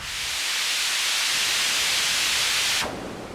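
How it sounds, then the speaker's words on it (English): A dense, hissing wash of heavy rain synthesized on a DSI Pro 2 synthesizer pours close by, loud and steady, then drops off suddenly near the end. "it sounds like it's pouring a lot nearby"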